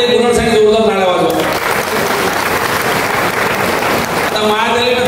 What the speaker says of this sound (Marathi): मायाताई गुन्हासाठी जोरदार टाळ्या वाजवा